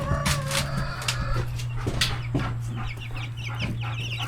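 A flock of chickens, including Americanas, clucks and chatters close by as they are moved into a new home, with overlapping short calls over a steady low hum and no talk.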